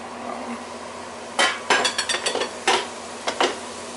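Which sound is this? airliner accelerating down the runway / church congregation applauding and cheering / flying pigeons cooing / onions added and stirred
onions added and stirred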